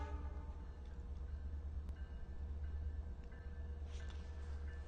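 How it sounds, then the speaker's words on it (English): Long Island Rail Road shuttle train pulling out of the yard at Speonk near a crossing, a steady low diesel rumble with faint mechanical whine, fairly distant and continuous. "So here comes our shuttle train for the day out of the yard."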